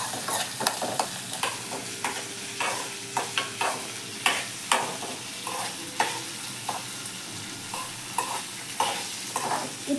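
Tomatoes sauté in a pan with constant sizzling and a rhythmic series of spoon scrapes and taps, close and fairly loud, with nobody speaking.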